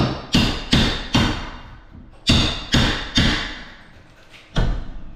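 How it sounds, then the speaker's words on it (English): Sharp hammer blows strike a shower wall during bathroom demolition: about eight loud, separate impacts in an uneven rhythm, each followed by a short rattling decay. "Swing your hammer left-handed even though you're right-handed."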